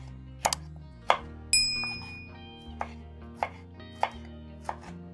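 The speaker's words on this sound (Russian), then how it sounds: "Перчик почистили и тоже режем его довольно-таки крупными кусочками" A knife chops bell pepper into large pieces on a board for a Greek salad, making sharp separate thuds with a crisp click to each, close and clear, with faint background music and a bright chime partway through.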